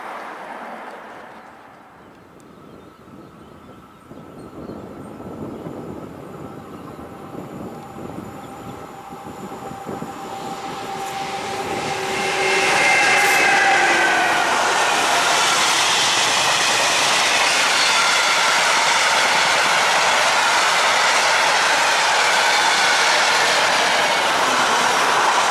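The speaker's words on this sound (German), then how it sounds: "Zweimal ICE 2." Two coupled ICE 2 high-speed trainsets pass at Althengenberg, Germany: a growing rumble builds over about twelve seconds into a loud, sustained rushing roar with wheel and rail noise that holds steady to the end, with no talk.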